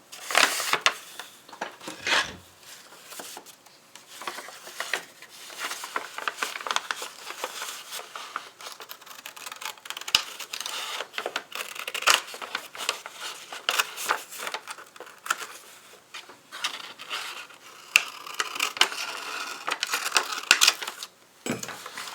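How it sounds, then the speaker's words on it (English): Scissors cutting down the gusset of a paper bag to the stitching while making a handmade gratitude journal, a long run of close, irregular snips and crinkling paper rustles with no talking. "I'm going to cut this gusset right down the insides all the way to the stitching."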